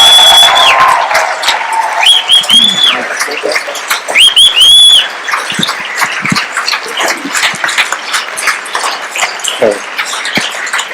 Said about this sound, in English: So please put your hands together for Christopher and Christopher.